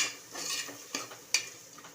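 A chopped medium tomato is sautéed in a pan for dal khichdi, giving soft, quiet scraping stir strokes and a couple of sharp utensil clinks against the pan.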